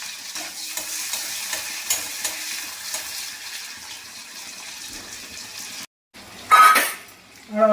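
Dried red chilies and a little onion fry in a pan, giving a steady close sizzle with scattered stirring clinks, then a brief cut and a louder burst of sizzling and clatter near the end.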